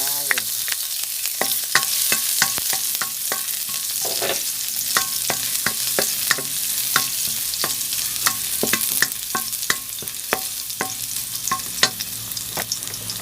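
Garlic fries in hot oil and is stirred in a home kitchen, a loud continuous sizzle broken by frequent sharp scrapes and taps of a utensil against the pan, with no talk.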